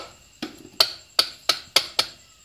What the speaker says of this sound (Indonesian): ingat getoknya harus pakai palu karet kalau enggak palu teflon